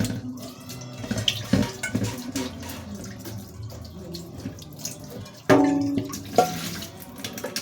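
Rice being washed by hand in water in a home kitchen, steady swishing and trickling with splashes and clinks, a louder splash burst near the end, faint speech in the background.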